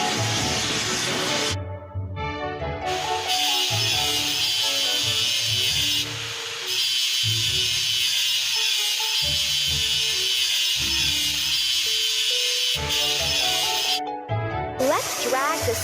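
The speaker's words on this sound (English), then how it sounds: "Let's run the welder over the crack to weld it." A welder runs along a crack on a ship's hull in a children's repair game, producing a steady loud hiss with crackling texture, broken by short pauses and set against upbeat background music.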